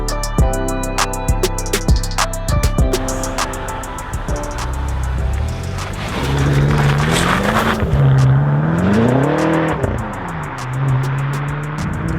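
A BMW M5's engine drones steadily inside the cabin, its pitch rising and falling as the driver accelerates and shifts, with ticking sounds early on.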